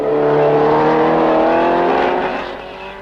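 A 1967 Formula 1 race car at the German Grand Prix, crawling along with a loose, wobbly front wheel, gives a loud, steady engine drone with layered harmonics that fades slightly toward the end.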